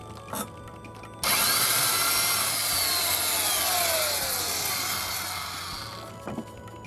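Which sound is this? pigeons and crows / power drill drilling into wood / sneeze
power drill drilling into wood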